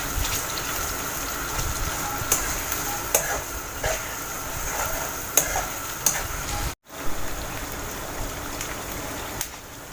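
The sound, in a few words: grated onions frying in oil, being stirred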